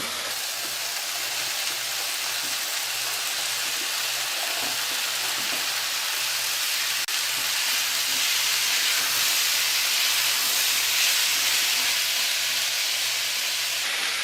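Zucchini and chicken sizzle steadily in a very hot pan, a loud continuous hiss and crackle that holds evenly throughout with no voices.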